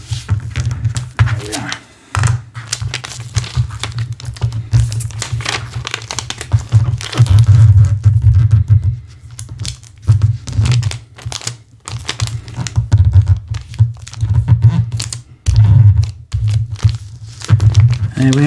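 Archival plastic wrap is folded over a book dust wrapper, giving close, repeated crinkling and crackling bursts in an irregular rhythm with short pauses between handlings.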